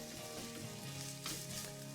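Onions and fennel frying in a pan give a quiet, steady sizzle, with soft crackles that continue evenly throughout and no talking.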